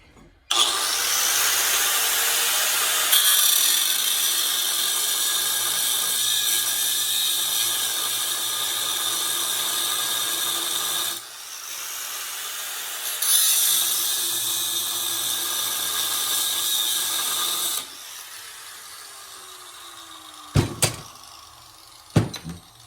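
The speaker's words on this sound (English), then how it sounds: "We're gonna be using this grinder. First thing, we're gonna cut this bolt off, so we're gonna catch all the sparks." An angle grinder cuts off a bolt on a billhook trench sword with a loud, steady high-pitched whine and grinding that pauses once and resumes, then falls silent before a few sharp clanks near the end.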